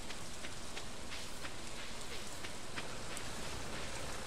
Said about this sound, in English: Wait about 20 minutes here in the soaking rain.